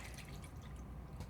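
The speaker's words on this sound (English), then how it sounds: "And I'm going to add in a 1/2 cup of white wine." Half a cup of white wine hits a hot pan with a faint, brief hiss and light dripping sizzle, heard alone at low level.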